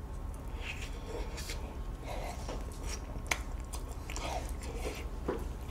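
Someone eating a sweet potato cookie in a mukbang: soft, close bites and chewing with small crunches scattered through, quiet and without talk.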